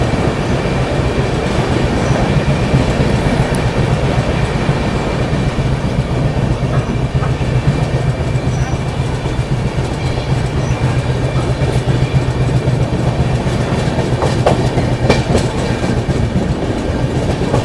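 An Indian express train rolls steadily along the rails near Etawah, slowed for track work on the outer line, with a continuous loud rumble and faint rhythmic wheel clatter throughout and no voices.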